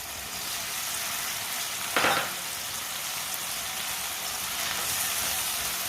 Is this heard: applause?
no